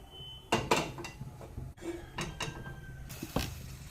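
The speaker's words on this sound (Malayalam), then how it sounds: "ഞാൻ ചീനച്ചട്ടിയാണ് വെച്ച് കൊടുക്കുന്നത്." A cheenachatti, an Indian wok, set down on a gas stove: several sharp metallic clanks and knocks in quick succession, close and fairly loud, over faint kitchen background.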